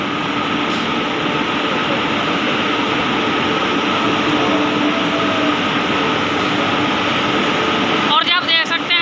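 Paschim Express train, Amritsar to Bandra Terminus, hauled by a WAP-7 electric locomotive, heard as a steady loud rumbling roar of the moving train, with a brief burst of rhythmic clatter near the end.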